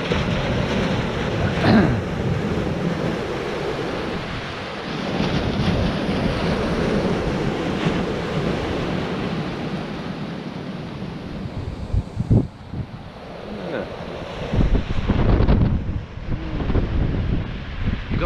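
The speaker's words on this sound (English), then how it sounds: "Watch these gusts of winds, you know." Blustery coastal wind buffets the microphone in rough gusts during a fishing session at Lilstock, with the wash of surf beneath and a few sharper bursts toward the end.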